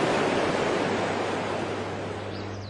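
Water spills from a hydroelectric dam in the Lechkhumi gorge as a dense, continuous roar, heard alone with no voices.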